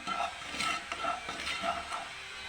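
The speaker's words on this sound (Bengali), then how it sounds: "দুটো শুকনো লঙ্কা ভেজে নিচ্ছি।" Two dried red chillies fry in oil with a soft, steady sizzle, broken by a few light rhythmic scrapes of a spatula in the pan.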